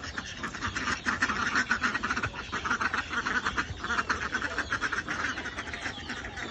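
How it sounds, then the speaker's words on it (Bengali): A flock of domestic ducks quacking busily as they come in to be fed, a dense, continuous chorus of overlapping nasal calls, close and loud with no clear talk. "আর ওই দিক থেকে আমাদের হাঁস আসতেছে"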